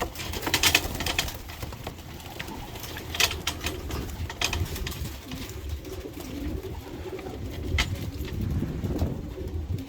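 Pigeons cooing softly amid a busy outdoor background, with occasional sharper calls and rustling; the coos blend into steady ambient noise rather than standing out.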